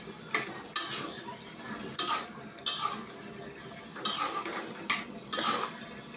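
Shrimp, Malabar spinach and potato cooking in a pan, stirred in repeated scraping strokes, about eight distinct bursts of metal-on-pan scraping over a low sizzle, close and fairly loud.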